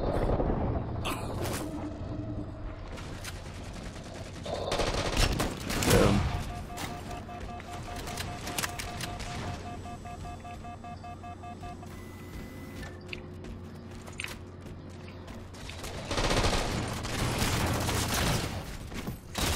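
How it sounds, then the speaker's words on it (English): Carbine and battle rifle gunfire in Halo 4 multiplayer, scattered shots and rapid firing under a steady game hum, moderately loud with a few louder bursts and no voices. "He started shooting at me way before I started shooting at him, and I have a carbine, and I killed him."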